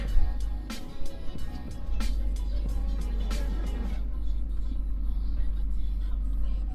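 A manual car shifted into reverse, its engine a steady low rumble throughout with some clunks and bumps early on, no talk heard.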